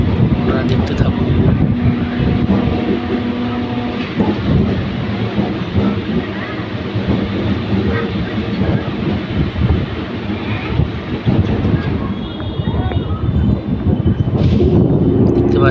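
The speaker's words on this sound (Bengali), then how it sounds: "আপনারা দেখতেই পাচ্ছেন স্টেশনে ঢুকছে গাড়ি" A Howrah–Chandanpur local train rumbles and roars continuously while pulling into a station, heard from on board, with someone talking over the heavy noise.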